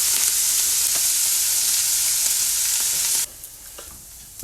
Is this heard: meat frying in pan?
yes